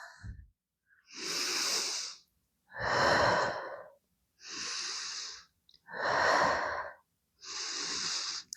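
Deep, steady Pilates costal breaths, with five long, loud breathy inhales and exhales evenly spaced, close to the mic with no talking.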